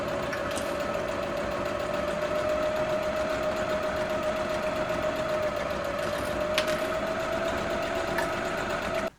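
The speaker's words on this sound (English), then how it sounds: "And now I'll stitch all around the top of that waistband." A sewing machine runs in one steady, unbroken stretch as it stitches around the top of a children's pants waistband. The motor hum is close and even, and no voices are heard.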